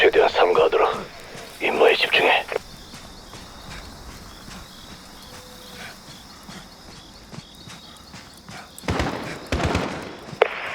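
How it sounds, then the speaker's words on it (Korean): Gunfire sounds in a Call of Duty: Modern Warfare reboot campaign mission at a mansion. A few sharp bursts of shots come at the start and again near the end, separated by a quiet, tense stretch, with voices talking in between. "총소리다. 가자."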